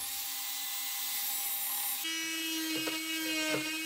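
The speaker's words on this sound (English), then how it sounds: "This involved a lot of sanding" A continuous whirring power sander grinds against wood for a guitar footstool, loud and steady, with a pitch shift partway through and a few brief bumps near the end.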